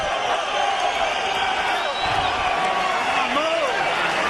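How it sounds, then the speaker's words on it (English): Boxing crowd at the Juan Manuel Marquez vs Rocky Juarez fight roars in a dense, steady wall of cheering and shouting, loud and sustained throughout without a break. "The crowd salutes these two."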